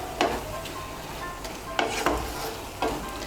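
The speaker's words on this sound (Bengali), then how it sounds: "ধনেপাতা কুচিটা মিশিয়ে নেব।" Chopped coriander is stirred into a mixed dal tarka in a pan over a soft sizzle, with a few distinct scraping strokes of a spoon spaced about a second apart, close and fairly quiet.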